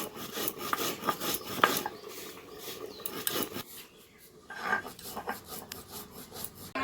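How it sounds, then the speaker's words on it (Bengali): Roasted cumin and cardamom are ground into a paste with rhythmic rasping, rubbing strokes, close and fairly quiet, pausing briefly between bursts. "সেই ভাজা জিরেটা আর এই এলাচগুলো একসঙ্গে আমি বেটে নেব"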